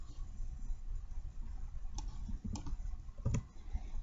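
A computer mouse gives a few sharp, quiet clicks in quick succession, spaced unevenly over faint room noise.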